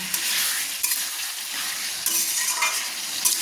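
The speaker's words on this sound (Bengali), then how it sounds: "আমি একটু কষিয়ে নেব" Pressure-cooked hatchery meat curry is sautéed in a wok, giving a steady sizzle under repeated scraping and stirring strokes, with a few sharper clinks of the spatula against the metal.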